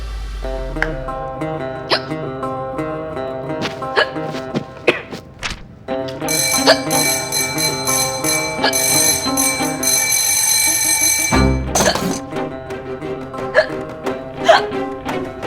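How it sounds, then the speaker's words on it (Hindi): Repeated hiccups sound in a Hindi TV comedy scene: a string of sharp, abrupt gulps spaced a second or two apart, set against bright, ringing musical tones and a loud sustained stretch in the middle. "आपको इतनी हिचकी क्यों आ रही है?"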